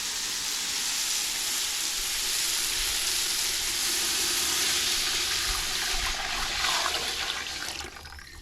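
Tamarind water mixed with curry powder goes into a pan of sautéed onions, giving a loud, steady sizzling hiss that runs unbroken through the whole clip with no talking.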